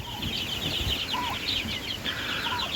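Chicks peep and cheep in quick bursts while feeding, over a steady background hiss, with soft pecking and shuffling sounds underneath; no talking.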